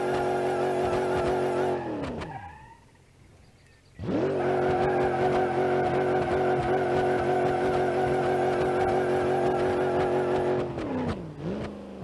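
Simulated car engine in BeamNG.Drive on the Granny Cart project build, loud steady high-rpm drone held near the limit, dropping away briefly, then surging back and holding before falling off again.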